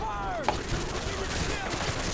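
Bursts of gunfire from the video game Call of Duty MW2 crackle in quick succession over a busy game soundscape, fairly close and loud.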